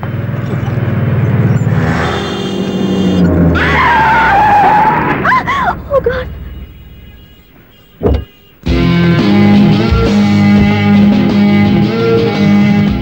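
A car brakes suddenly and its tyres screech in a long skid, followed by engine noise and a brief sharp thump, loud and close, with some voices mixed in.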